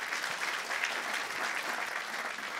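A church congregation applauding in praise of Jesus Christ, a steady, even wash of clapping from many hands that holds at moderate loudness throughout without pause.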